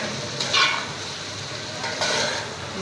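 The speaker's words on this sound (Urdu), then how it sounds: "مسالے کو ہم نے دیکھیں اچھے سے بھون لیا۔" Spice masala for a Pakistani chicken and cabbage pulao fries in a pot as a spoon stirs it, giving a steady hiss of sizzling oil with two brief louder scraping stirs.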